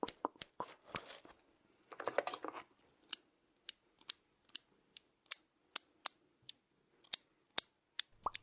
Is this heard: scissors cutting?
yes